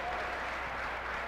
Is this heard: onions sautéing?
no